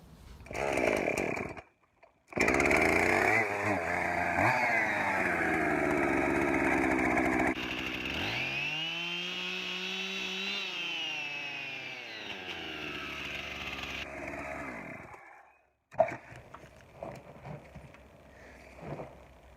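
A chainsaw revs up loudly, then bogs down and strains as it cuts through a rotten barn sill board for several seconds before easing off and idling.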